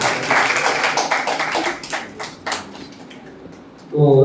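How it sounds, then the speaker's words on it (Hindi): Audience applause at a Jain religious discourse in Delhi: a burst of many hands clapping, dense at first and then thinning into scattered claps before a voice begins speaking. "बहुत सुंदर, जोरदार ताली"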